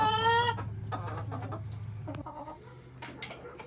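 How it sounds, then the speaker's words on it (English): Hens cluck and murmur close by in a hen house, broody hens on nest boxes, one loud harmonic cackle at the start followed by softer scattered clucks and a low steady hum. "in the hen house now. Chickens laying all over the place."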